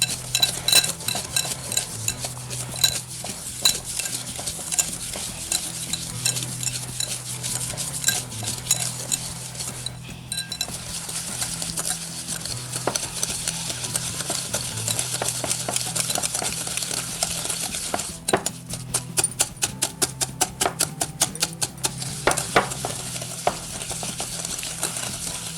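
Custard mixture for a tart is stirred and mixed in a bowl, with continuous close clinking and scraping of a utensil against the bowl in quick repeated strokes, a few bursts of rapid rattling along the way.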